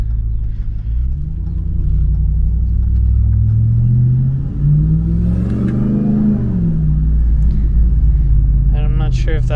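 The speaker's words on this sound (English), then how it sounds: "Real quick, I'll see if I can get some intake noise" Ram TRX truck with an aftermarket intake and carbon interior, engine revving in manual mode with a deep rumble that climbs and falls once, close and loud, with a voice briefly heard near the end.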